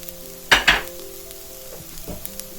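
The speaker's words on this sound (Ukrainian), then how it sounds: "І теж підсмажується хай трішечки цибулькою. Сюди ж я кидаю сушений часник." Onion and dried garlic hit a hot pan with two sharp bursts of sizzling, followed by quieter frying and a light stir.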